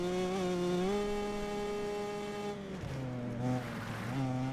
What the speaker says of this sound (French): Ça fait glisser la moto là.